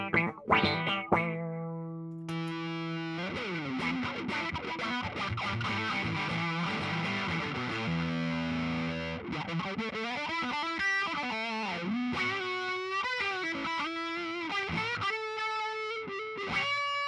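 An electric guitar plays through an Electro-Harmonix Big Muff op amp fuzz pedal and an envelope filter, giving thick distorted sustained notes with sweeping, wah-like filter swells, loud and alone, ending in a run of quicker picked notes.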